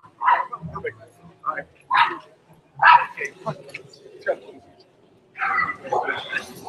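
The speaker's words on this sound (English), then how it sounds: "All the barking that way." A dog barks in short bursts at moderate distance, several separate yips and woofs spread across the moment, mixed in with people talking nearby.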